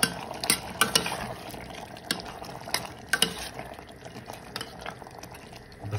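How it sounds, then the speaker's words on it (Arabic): Potato pieces dropped and stirred into a pot of simmering kebab stew, a few soft knocks and splashes over a low bubbling background, close and fairly quiet. "ننزل البطاطس"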